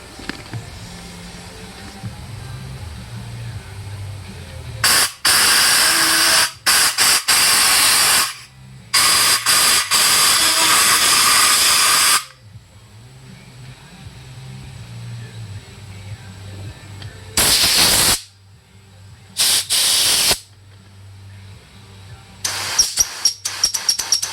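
Compressed air blasts loudly through a 1998 Force 50 HP outboard carburetor in several long and short hissing bursts, with a low engine-like hum between them.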